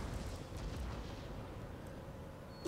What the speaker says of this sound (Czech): Naše děla střílí.